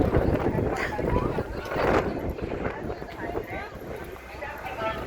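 Strong wind buffets the microphone in rough, rumbling gusts during a Holy Thursday outing, with indistinct voices underneath.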